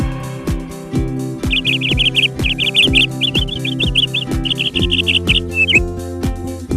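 A parrot gives a rapid run of bright chirps and squawks in short bursts, ending with a rising whistle, all over a bouncy, steadily pulsing children's rhyme beat.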